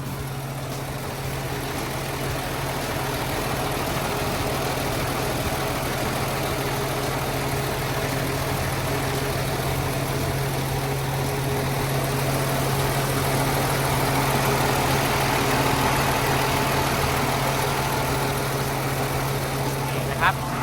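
A Komatsu GC380F-2 motor grader's six-cylinder diesel engine idles close by, a steady droning hum with a strong low tone that holds unchanged for about twenty seconds.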